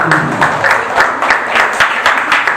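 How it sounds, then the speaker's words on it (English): An audience at a class debate applauds, a dense and loud burst of clapping that continues evenly throughout. "Let us give her a round of applause, please."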